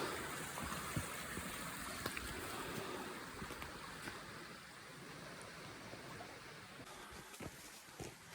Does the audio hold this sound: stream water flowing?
yes